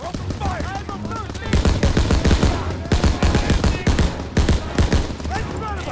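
Rapid machine gun bursts and gunshots ring out across a World War II battle in Call of Duty WW2, loud repeated volleys with pauses between them and faint voices calling out in the background.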